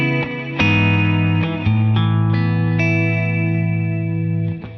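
An electric guitar plays a slow, sustained melodic line through Lexicon reverb and a dotted-eighth-note delay, so each loud note smears into echoing repeats and a lingering wash, with no talking.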